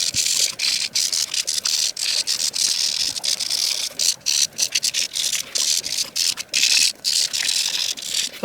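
Rapid, close scrubbing of a magic ink pen tip against a plastic Sonic figure, a dry rasping rub in quick bursts with brief gaps, loud and steady with no talk.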